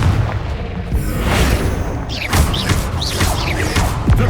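Confringo spell blasts in Hogwarts Legacy burst out as a series of booming, crackling explosions, loud and close, with rough rumbling tails between the hits and no voices.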